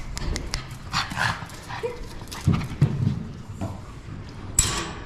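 A small dog moves around inside a table turned into a kennel, making scattered thumps, scrabbling and clicks of paws, with a faint whimper. A person speaks quietly at times.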